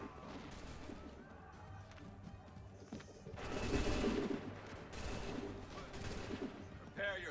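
Musket volley fire in the video game Assassin's Creed III: several bursts of massed gunfire crack out in rolling volleys, with shouted commands and battle noise mixed beneath.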